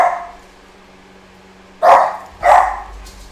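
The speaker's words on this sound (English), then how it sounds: "my dogs are being ridiculous right now." Dogs bark indoors, nearby and loud: a fading bark at the start, then two sharp barks about half a second apart after a pause.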